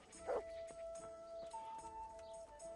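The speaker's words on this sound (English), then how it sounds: "Right, let's talk to the dog." A dog in the medieval video game Kingdom Come: Deliverance gives a short bark followed by soft whimpering whines, quiet and close against a faint game ambience.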